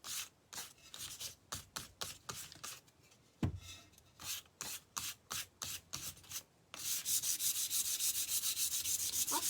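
Fine-grit sandpaper smooths fresh paint on a painted piece in short, rhythmic rubbing strokes with brief pauses, close and fairly quiet, ending in a longer continuous scrub.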